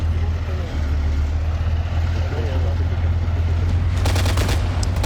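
Suppressive gunfire in an OFCRA 100-player PvP military video game match: a rapid burst of shots crackles near the end, over a constant low engine-like rumble that runs throughout.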